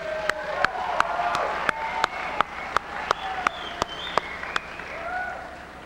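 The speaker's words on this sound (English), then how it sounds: "And a round of applause, yes," A graduation audience applauds: a steady wash of clapping and crowd noise with sharp, evenly spaced loud claps standing out near the microphone, moderately quiet overall.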